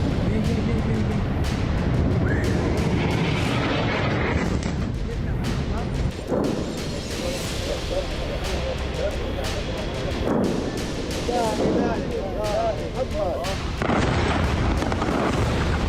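Bombs exploding in airstrikes on Lebanon, heard as heavy booms and rumbling blasts that repeat through the scene, loud and close, mixed with shouting voices and commotion.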